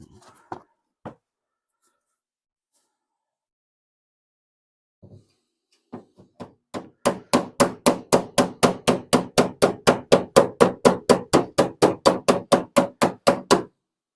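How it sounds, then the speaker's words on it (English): Hammer pounding a small dent out of steel body panel during hammer and dolly repair: a few isolated taps, then a long, steady run of about thirty loud, evenly spaced metallic blows. "But I should pound that little dent back in there."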